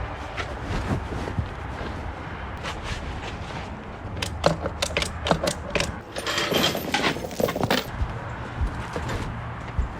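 Frozen, jammed ratchet straps are worked by hand outdoors beside a Ferguson 35 tractor, producing a series of close, sharp mechanical ratchet clicks and rattles in irregular bursts.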